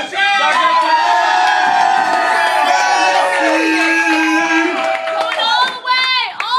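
Crowd at a word tournament selection show cheers and whoops loudly and continuously, many voices shouting together up close, with excited yells standing out near the end.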